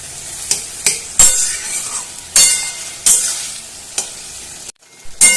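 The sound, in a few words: stirring poppy-seed gravy with potatoes in a pan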